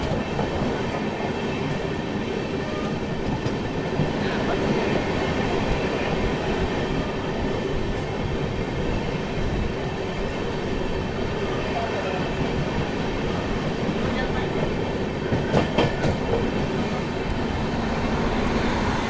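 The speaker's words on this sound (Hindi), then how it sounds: "फिलहाल कुछ ही देर में अपनी ट्रेन ओवरटेक करने जा रही है" Steady rumble and rattle of an Amrit Bharat Express in motion, heard from inside a coach on a run toward Visakhapatnam, with continuous wheel clatter and a few sharper clanks; faint voices mix into the constant roar.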